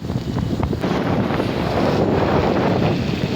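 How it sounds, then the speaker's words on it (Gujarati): Strong wind buffets the microphone in a constant, heavy roar with no speech. "ઠંડી બહુ વાય છે એમ તો પવન છે જોરદાર"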